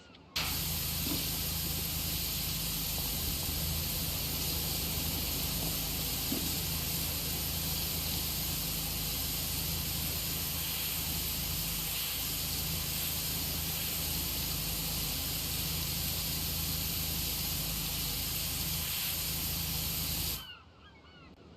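Steady high-pressure water spray hisses continuously from a pressure washer nozzle in PowerWash Simulator, a loud, unbroken broadband rush lasting about twenty seconds before cutting off abruptly.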